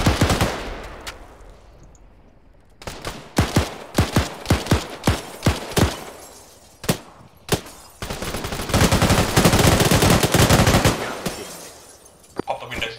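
Video game gunfire crackles loudly in single and spaced shots, then bursts into a long stretch of sustained automatic fire before trailing off. Faint voices may sit underneath.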